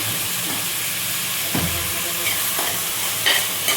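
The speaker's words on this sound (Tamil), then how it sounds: "இப்போ பூண்டு வணங்கினோம்னா நம்ம தக்காளி போட்டுக்கலாம்." Garlic and tomatoes fry in a pan with a steady, close sizzle and hiss, punctuated by a few soft stirring scrapes, and no one speaks.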